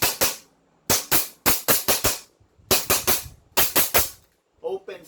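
HK416 toy blaster firing rapid sharp cracks in quick clusters of three to four shots with short pauses, loud and close, ending in a brief mechanical clatter and a voice at the very end.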